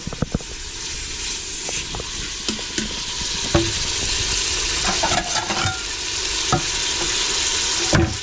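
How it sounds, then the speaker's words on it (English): Beef browns in an Instant Pot with a steady, close sizzle and a few sharp scraping clicks of a utensil stirring the meat against the pot, with no talking. "we're going to brown the beef"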